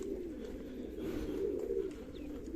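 Pigeons coo softly and continuously, a low burbling murmur of several birds close by, with no talking.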